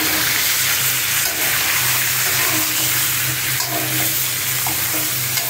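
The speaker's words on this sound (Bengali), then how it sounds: "এদিক যে জালিটা ভাইজা নিতেছি ভালো করে" Young ridge gourd frying in a pan, a steady broadband sizzle with faint stirring scrapes running throughout, close and fairly loud with no talking.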